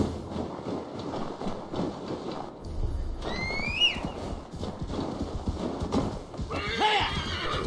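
A horse whinnies twice in Assassin's Creed Valhalla, a shrill neigh mid-way and another near the end, with hoofbeats clopping over a low game ambience; faint talking in the background.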